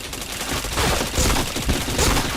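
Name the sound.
gunfire in a video game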